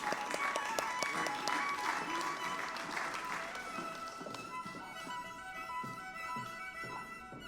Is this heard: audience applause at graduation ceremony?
yes